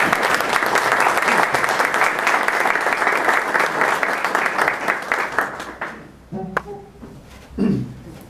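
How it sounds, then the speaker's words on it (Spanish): An audience at an evening literary event on the poet Alfredo R. Plasencia gives a loud, full applause to welcome a speaker. The clapping holds strong for about six seconds, then breaks off into a few scattered taps and a soft voice. "Recibimos con un aplauso al licenciado Samuel Gómez Luna Cortés."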